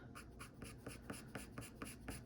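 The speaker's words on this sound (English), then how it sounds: "I could start to bring my pencil in" A pencil sketches a plant drawing on paper, with repeated scratchy strokes in a steady rhythm, close and clear, and no talking.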